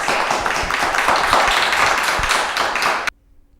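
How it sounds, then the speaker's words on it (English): Studio audience giving a round of applause, a close, loud burst of many hands clapping for about three seconds before cutting off abruptly into near silence. "Let's give him another round of applause."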